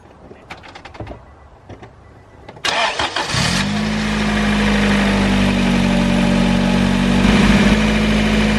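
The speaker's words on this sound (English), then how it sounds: "As you can probably hear, the car's running." A car engine cranks and catches after a few faint clicks and knocks, then settles into a steady, close idle with a constant low hum that holds to the end.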